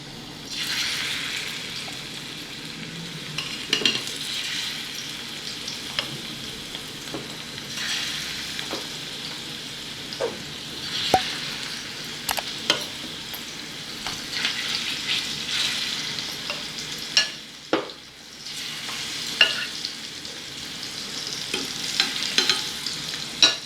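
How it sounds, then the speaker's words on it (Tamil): Shrimp fry in hot oil in a pan, a steady close crackling sizzle broken by sharp spatula taps and scrapes against the pan, with no talking. "எண்ணெய் கொதிச்சிட்டுது. நான் இறால் பொரிக்க போகிறேன்."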